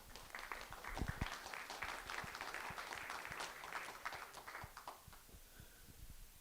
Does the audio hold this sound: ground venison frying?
no